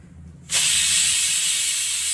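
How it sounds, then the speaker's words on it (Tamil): Mustard seeds, fenugreek and two dried chillies dropped into hot oil for sura puttu curry, a sudden loud hissing sizzle that starts after a short quiet moment and holds steady to the end. "இப்போ எண்ணெய் காஞ்சோன்னா இதில் கடுகு, வெந்தயம், 2 காஞ்ச மிளகாய் நான் சேர்த்துக்கிறேன்."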